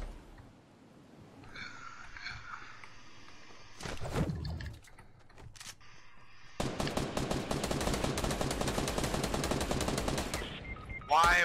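Infantry rifle gunfire in Fortnite: a brief burst of shots, then a long rapid volley of sharp cracks, loud and close, with players' voices faint in the background.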